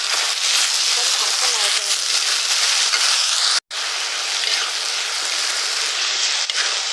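Taro leaves hit a pan of hot oil with blackened panch phoron and crack into a loud, dense, close sizzle that carries on evenly, with only a brief break partway through.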